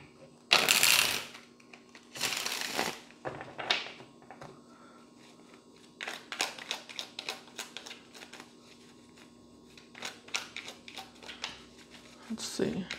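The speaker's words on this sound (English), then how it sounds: "One more shuffle." Tarot cards are shuffled in several bursts of crisp riffling and flapping, with pauses and softer card taps between them, close and clear.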